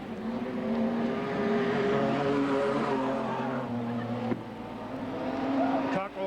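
Modified sedans race past on a raceway at a 1992 Victorian title meeting, engines droning loud and continuous with shifting pitch as cars sweep by, a sharp change near the end, under a commentator's voice.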